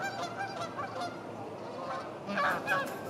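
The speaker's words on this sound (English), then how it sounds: "More geese. The birds are everywhere." Several geese honk in short bursts over a quiet lakeside campground background, with the loudest calls coming near the end.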